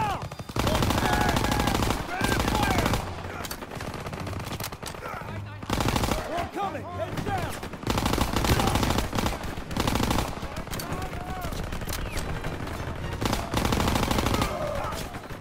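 Sustained heavy gunfire from a World War II battle in the video game Call of Duty WW2, dense rapid bursts and machine-gun fire filling the scene almost continuously, loud and close with brief lulls.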